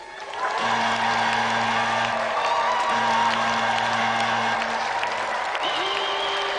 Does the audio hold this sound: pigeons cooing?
no